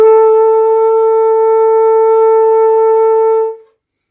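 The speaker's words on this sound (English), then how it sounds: "We also have here a conch shell" A conch shell blown like a horn holds one steady, gentle tone for about three and a half seconds, with clear overtones, then cuts off cleanly into silence.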